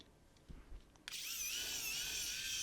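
CAPITANEUS SE1 Pro 3.7V mini electric precision screwdriver driving out a screw, a few faint handling taps and then a sudden high, steady whine of the small motor, close and without talk.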